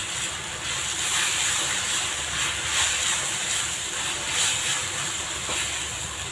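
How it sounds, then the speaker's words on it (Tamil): Ginger garlic paste sautéing in a pan for tomato thokku, a steady, close hissing sizzle that stays even throughout with slight flickers and no talking. "இஞ்சி பூண்டு பேஸ்ட்டு பச்சை வாசனை போகிற அளவுக்கு நல்லா வதக்கிக்கலாம்"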